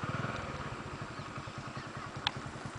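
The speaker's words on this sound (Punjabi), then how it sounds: "ਇੰਜਣ ਕੈਪਚਰ ਕਰ ਲਈਏ" Village engine running at a steady idle, a close, even low putter with regular rapid pulses and one brief sharp click near the end.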